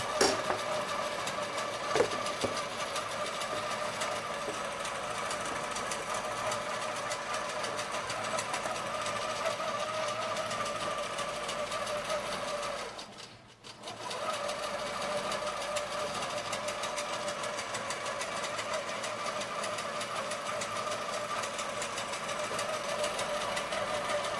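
Butler Robotics longarm quilting machine stitching a quilt, a steady mechanical hum and whir running continuously and close, with one brief dip near the middle before the motor picks back up.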